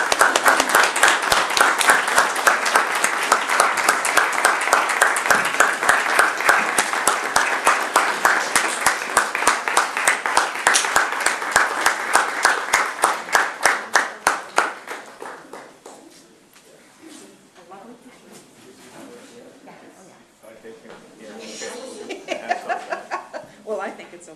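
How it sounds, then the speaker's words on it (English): At a council meeting, the audience breaks into steady rhythmic applause lasting about fifteen seconds and then fades out. Quieter talk and light chuckles follow in the room. "Can we give and them applause?"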